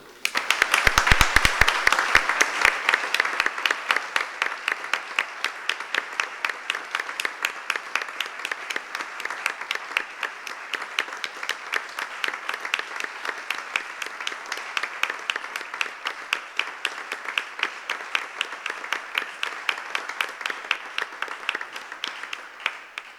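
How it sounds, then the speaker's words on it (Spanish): A large crowd at a round-table session of an industrial heritage congress applauds steadily for over twenty seconds, dense clapping that starts loud and holds an even level throughout. "simplemente un gran aplauso"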